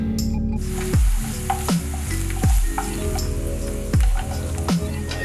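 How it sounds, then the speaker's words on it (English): Onions sizzle in olive oil in a pan, and a utensil stirs them through it. Steady close frying hiss runs throughout, with four or five louder scraping strokes at a regular rhythm. "Dropping in my onions, stirring that around, getting them coated in the olive oil."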